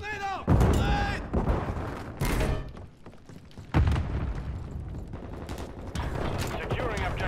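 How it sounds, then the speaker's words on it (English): Explosions and heavy gunfire boom through a Call of Duty: Modern Warfare III match, with several loud blasts and bursts of shots landing close together while a voice shouts over the battle. "Grenade out! Grenade out! Grenade!"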